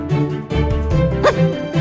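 A robot toy dog gives short, electronic-sounding barks and yips, loud and close, in a quick burst of a few calls.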